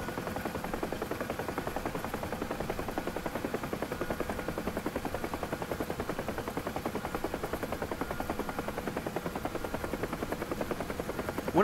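Huey helicopter in the DCS flight simulator with its tail rotor shot out, a steady, loud rotor chop with fast rhythmic blade thumps and engine whine continuing throughout, no voices.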